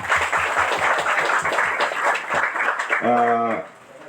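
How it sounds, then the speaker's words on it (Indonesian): Applause from a scout forensic speaking event. A crowd claps in a dense, steady patter for about three seconds, then a voice rises briefly over it as the clapping fades. "Luar biasa, tepuk tangan ya."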